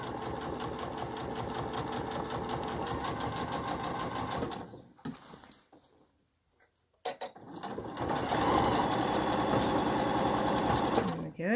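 A sewing machine stitches the neckline facing of medical scrubs, crossing thick shoulder seams and curves. A steady close whirring runs for a few seconds, stops for about two seconds, then resumes louder to the end. No one speaks.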